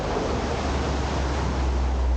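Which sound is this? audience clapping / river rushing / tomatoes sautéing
river rushing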